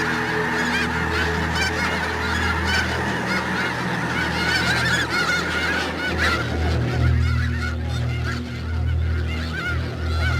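A huge flock of snow geese, more than 40,000 birds settled near the salt marshes, honk continuously in a dense, loud, overlapping chorus.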